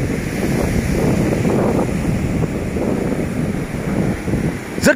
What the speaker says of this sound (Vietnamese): đó sóng này